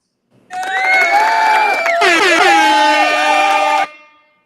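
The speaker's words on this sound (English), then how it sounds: "And Ziggy, give the goddamn air horns to the This Shit More Than a Game community for helping us get to someone like Erik McCo" A loud, blaring air horn blast sounds for about three seconds, its pitch wavering and shifting midway, alone and up close.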